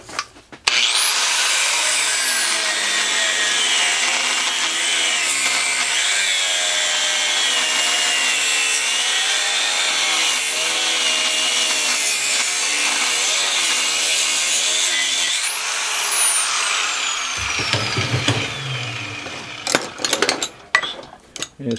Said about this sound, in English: I'll just cut it on both sides and be done with it.